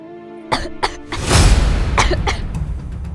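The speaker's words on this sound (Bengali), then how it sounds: "কাশছো কেন?" A woman coughs a few times at close range, with short throat-clearing bursts followed by a harsher, sustained cough.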